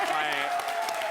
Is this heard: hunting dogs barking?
no